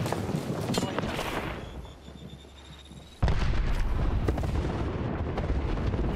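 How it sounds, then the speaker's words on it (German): Heavy booming blasts and crackling bursts erupt close around a player in Apex Legends, loud and dense, with a brief quieter lull before another powerful explosion slams in and the rumbling chaos continues. "das ist hier um mich rum explodiert"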